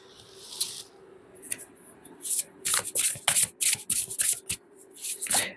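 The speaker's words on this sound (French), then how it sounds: "J'ai besoin de tirer une carte là-dessus." Tarot cards are shuffled by hand before a draw, in close, crisp bursts of riffling and sliding that grow busier and quicker toward the end.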